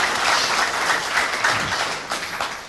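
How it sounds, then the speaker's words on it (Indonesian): An audience at a police coffee-break discussion forum breaks into a short burst of hand clapping, dense and fairly loud, lasting a couple of seconds. "Berarti harus tepuk tangan dulu nih kalau oke."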